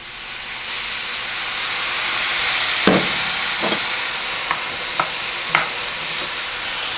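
Mushrooms with butter and Lea & Perrins sizzle and hiss steadily in a hot pan, with a few sharp scrapes and clacks as a utensil stirs them, close up and without talk.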